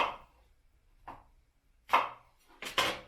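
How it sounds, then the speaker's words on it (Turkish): Four crisp knife chops on a cutting board as a medium onion is cut into quarters, spaced unevenly, the last two close together, clear and near in a quiet room. "bir orta boy soğanı dörde bölüyorum."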